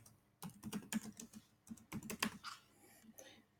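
Close, quick typing on a computer keyboard, clicking in two busy bursts with a brief pause between them and a few scattered keystrokes at the end.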